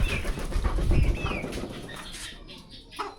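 Pigeons coo and flap their wings near a pile of rice set out as feed, soft throaty calls over a rustling, bustling background of birds moving close by.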